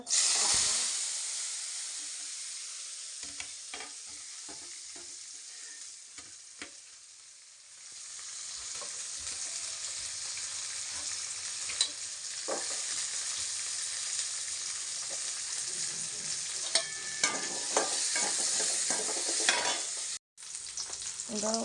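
Steady frying sizzle with intermittent stirring scrapes as small onions and garlic sauté in a pan, close and continuous throughout.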